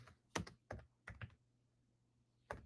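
Keystrokes on a computer keyboard come in a few quiet, close taps, spaced out in short irregular bursts with pauses between them, over a faint low hum.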